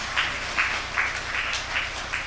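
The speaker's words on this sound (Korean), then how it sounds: "하나님께 큰 영광의 박수 한번 치겠습니다" Congregation at a Seoul church Sunday service claps in unison, a steady rhythmic beat of roughly two and a half claps per second, each a distinct loud burst over a low room hum.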